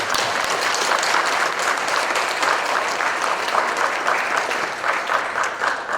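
A congregation at a Korean Methodist ministers' retreat closing worship service gives sustained, even applause of thanks, loud and continuous from start to end with no talk over it.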